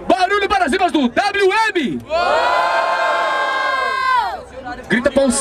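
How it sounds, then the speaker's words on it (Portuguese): A crowd at a Barueri street rap battle (Batalha da Aldeia) cheers and shouts in a long, loud sustained roar, with an MC's voice talking before and after it. "Barulho para as rimas do WM!"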